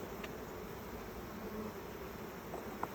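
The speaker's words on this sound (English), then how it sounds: "The bees tend to kind of bunch up on the frames when it's setting out" Honey bees humming over the frames of an open hive, a faint, steady close buzz with no voices.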